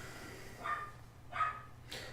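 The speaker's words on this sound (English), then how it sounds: "my dog's barking in the background just there" A pet dog barking somewhere in the house behind a podcast recording, three short faint barks spaced about a second apart, distant and quiet with no talk over them.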